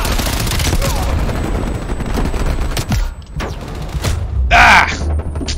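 An MP5 submachine gun in Call of Duty: Black Ops Cold War fires rapid automatic bursts, close and loud, amid battle noise, with a brief voice cry near the end.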